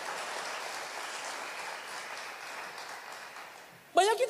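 A church congregation applauds in a steady, moderately distant wash of clapping that fades slightly before a preacher's voice cuts in at the very end.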